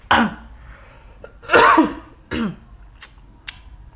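Three harsh coughs close to the microphone, spaced about a second apart, followed by a couple of quieter short clicks or breaths.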